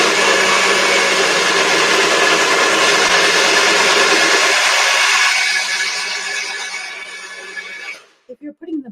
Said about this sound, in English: I'm using this blender because this is a good one for it